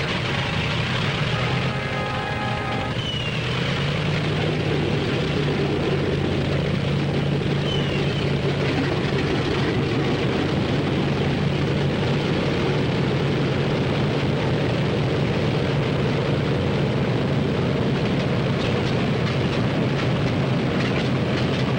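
Aircraft engines starting on a World War II bomber airfield, a loud steady droning rumble that swells in the first few seconds then holds, with a brief whine early on.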